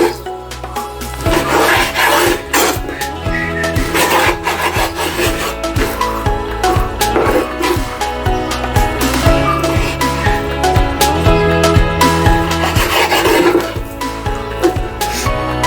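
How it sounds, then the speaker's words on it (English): A knife trims the fat off an entrecote steak with repeated close, rasping scrapes and cuts in a steady rhythm that carries on throughout. "I trim it, I'm going to take all the fat off"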